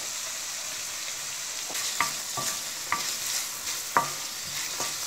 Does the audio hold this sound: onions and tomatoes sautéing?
yes